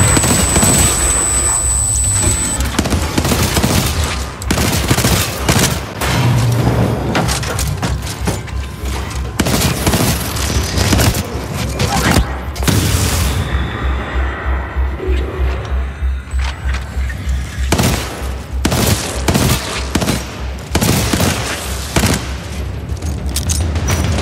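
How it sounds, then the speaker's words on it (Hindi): Assault rifle fire in Titanfall 2 during a boss fight, loud and near, with rapid bursts rattling almost continuously amid heavy booms and clanking mechanical battle noise. "first fire assault rifle"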